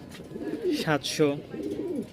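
Rajshahi giribaz pigeons cooing at a pigeon market, a few soft throaty coos close by, with a voice calling prices over them.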